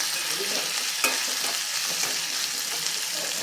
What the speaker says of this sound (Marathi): यामध्ये दोन सुक्या लाल मिरच्या घालतीये हे देखील छानपैकी कांद्यासोबत आपण परतून घेऊयात